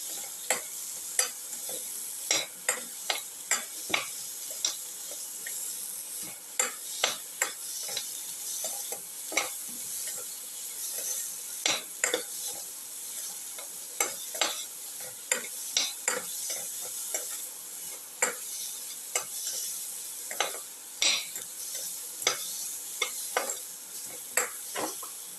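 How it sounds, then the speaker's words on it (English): Salted pumpkin pieces are stirred and mixed in a pan, a soft continuous sizzle punctuated by regular sharp scrapes and clicks of the utensil, moderately close and without talk. "Salt and mix the pumpkin pieces thoroughly."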